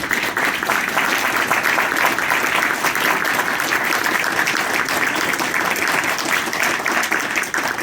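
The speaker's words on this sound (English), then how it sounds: "I think we should give them a round of applause." Sustained applause from an audience at a mayoral candidate forum in Bloomington, steady and fairly loud for the whole stretch with no break.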